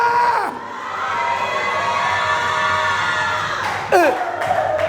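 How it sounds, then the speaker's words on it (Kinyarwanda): A church congregation raises loud, close ululation in high trilling cries over a dense crowd roar of cheering voices, swelling at the start and again near the end. "Yikomere mu mashaba byayi muyivugirize impundu Imana ihimba"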